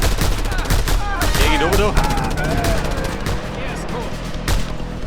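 Gun turret firing in the video game Just Cause 2, a dense run of loud gunfire bursts and booms over a busy battle soundscape, with someone talking in German over it.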